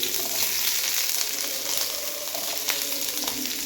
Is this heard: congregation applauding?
no